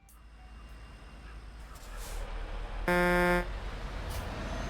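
A single short horn toot from a truck in the video game Euro Truck Simulator 2 sounds once mid-clip, clear and fairly loud over a steady engine and road drone.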